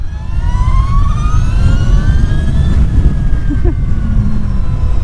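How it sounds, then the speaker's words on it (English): An Energica Eva Ribelle electric motorcycle accelerates, its high electric whine climbing steadily in pitch over a heavy rumble of wind and road noise. "anytime I get on an electric bike and start to pull the throttle, you remember how crazy the acceleration is on these things."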